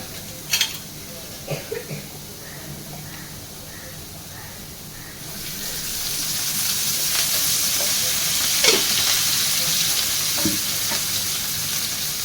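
Onion frying in a pan with oil added for a chicken curry. It gives a steady close sizzle and hiss that grows fuller partway through, with a few clanks from a spoon or utensil and no talking.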